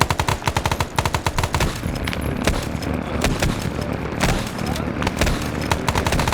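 Gunfire in the Vietnam War game SOG Prairie Fire, rapid bursts of automatic fire opening the passage, then sustained sharp shots and impacts continuing throughout, loud and close, with voices talking underneath.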